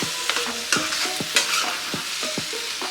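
Pumpkin halwa with jaggery being stirred in a pan over medium flame, a spoon scraping and knocking in repeated strokes over a soft sizzle, close and clear with no voices.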